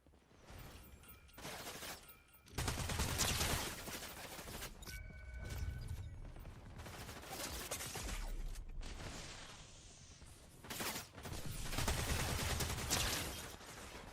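Bursts of gunfire in Fortnite's ballistic mode crackle in repeated loud volleys separated by short lulls, with mechanical clanks and a shattering hit mixed among the shots.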